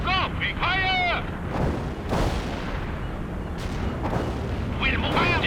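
Heavy artillery strikes in the World in Conflict strategy game: booming explosions and rumbling blasts under steady radio-style voices and game chatter throughout.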